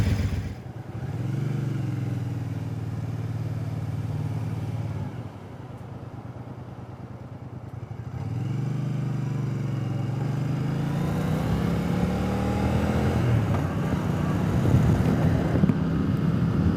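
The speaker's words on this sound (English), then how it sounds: "first ride since I put the new exhaust on" Triumph Speedmaster motorcycle with newly fitted aftermarket exhaust pipes on a test ride, a steady droning engine note that rises and falls with gear changes, with wind rushing across the microphone and no talk.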